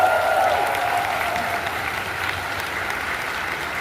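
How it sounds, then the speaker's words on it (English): A convention crowd at Dragon Con applauds in a large hall, with dense, steady clapping that fades slightly but continues throughout. "please give a round of applause for your hotel staff and service workers"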